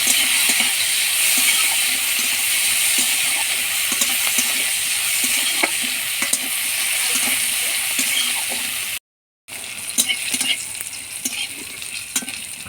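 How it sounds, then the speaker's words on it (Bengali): Bitter gourd pieces frying in hot oil, a steady loud crackling sizzle with intermittent stirring clicks, briefly cut out before resuming. "তেল গরম হয়ে গেছে, এবার করলাগুলো দিয়ে দেবো। দিয়ে ভেজে নেব।"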